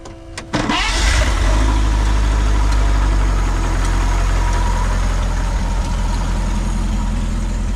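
A 1948 Pontiac Streamliner Deluxe engine cranks briefly and catches, then runs at a steady, loud, close idle with a deep low rumble for several seconds, with nothing else heard over it.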